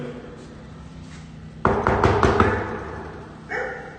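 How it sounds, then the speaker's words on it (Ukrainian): A dog inside an apartment barks behind a closed door, a quick burst of several loud barks followed by a single shorter one, heard from the hallway over faint background noise. "І я чую, що там всередині є собака."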